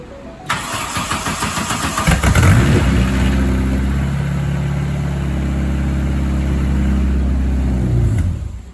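A Volkswagen Beetle with a newly installed exhaust and its MAF sensor left unplugged cranks in a rapid rhythmic starter whir, catches into a loud, close idle for several seconds, then cuts out abruptly.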